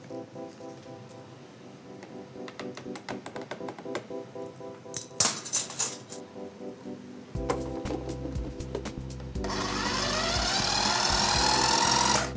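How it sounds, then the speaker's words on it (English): A food processor mixes coconut flakes and coconut flour, starting with scattered clatter and handling knocks, then a motor kicks in with a steady whirring buzz that grows louder and harsher toward the end. "place the coconut flakes and coconut flour in your food processor and mix them together"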